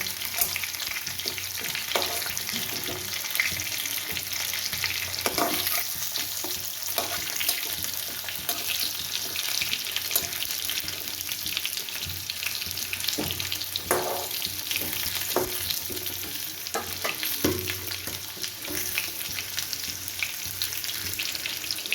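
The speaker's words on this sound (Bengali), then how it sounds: "আলুটা আমার সুন্দর করে ভাজা হয়ে গেছে" Potatoes fry in hot oil for a fish curry with a continuous hissing sizzle, punctuated now and then by the clack and scrape of stirring.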